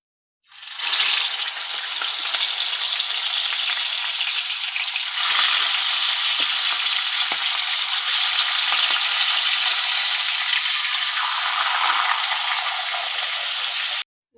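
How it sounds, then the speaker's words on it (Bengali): Rohu fish fries in hot oil, a loud, dense, steady crackling sizzle that starts abruptly and holds for about fourteen seconds, close up and without talk. "চলো মাছটা ভেজে নিই।"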